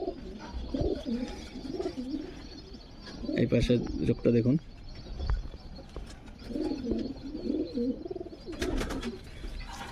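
Pigeons coo in a rolling, repeated rhythm close by, several bouts across the stretch, while someone talks intermittently over them.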